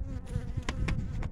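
Honey bees buzz close by while a hive is opened for inspection, a dense droning hum with individual bees zipping past the microphone in brief louder bursts.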